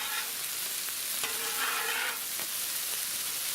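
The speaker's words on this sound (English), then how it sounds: "give that all just a good little stir." Chicken sausage and peppers sizzling steadily on a Blackstone griddle while a spatula stirs and scrapes through them, with a few brief clinks over the constant frying hiss; no talking.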